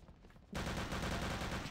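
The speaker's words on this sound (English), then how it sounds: "I shot the box." Gunfire in the video game Return to Castle Wolfenstein, aimed at a box, erupts as a sudden loud, sustained burst after a quiet moment.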